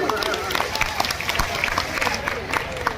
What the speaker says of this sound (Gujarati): આપણે બધાએ બે હાથ ઊંચા કરી તાળી પાડીને કદમ સેવા સમિતિને આવકારીશું